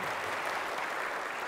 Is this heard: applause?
yes